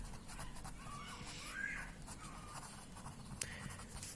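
Handwriting a maths statement during a class-six lesson, soft close scratches and strokes of the pen or marker in short bursts, quiet and without talking.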